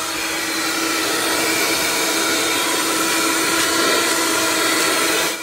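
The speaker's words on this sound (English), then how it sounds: "let's see if the Car and Driver approved selections vacuum cleaner does the job" A small Car and Driver–approved handheld vacuum cleaner runs steadily at close range, sucking up crumbs with a loud, continuous whine and airy roar that holds level throughout.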